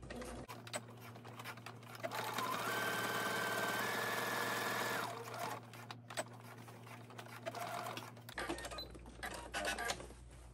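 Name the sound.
sewing machine sewing the bottom of a pouch lining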